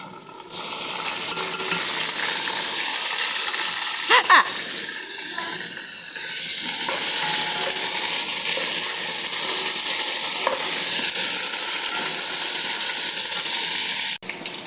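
Chicken browning in a pan for chicken majboos gives a steady, close sizzle of frying that runs without a break, with brief stirring clatter and a few utensil knocks over the top.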